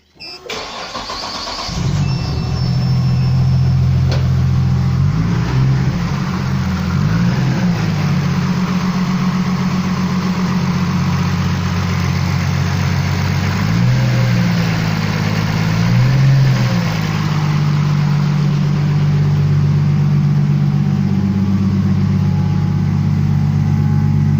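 A Nissan RB26 engine fitted with individual throttle bodies starts and settles into a loud, steady cold idle just above 1,000 rpm, a deep continuous rumble with slight rhythmic wavering in pitch, heard close and alone.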